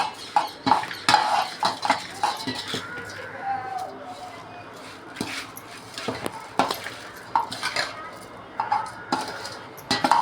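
Sesame seeds being mixed in a bowl or pan for a crispy karanji filling, close clinking and scraping of a spoon in an irregular rhythm, with talk over it.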